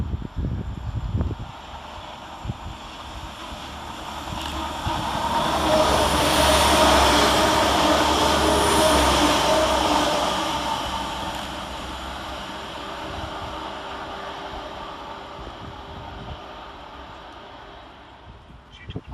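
Transport for Wales Class 197 diesel units pass through a station, a broad roar that swells to a peak midway and slowly fades as the train recedes, heard from the platform with no talk.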